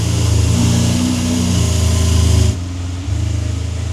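A Lamborghini Aventador engine idles and revs with a deep, steady rumble, briefly dropping then picking back up, close by.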